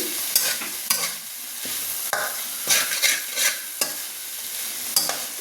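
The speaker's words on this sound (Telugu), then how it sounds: "అడుగు అంటకుండా మనము మధ్య మధ్యలో ఇలా కలిపెడుతూ ఉండాలి" Okra stir-fry being stirred in a frying pan, a spatula scraping and clattering in irregular strokes over a soft continuous sizzle, close and moderately loud, no voices.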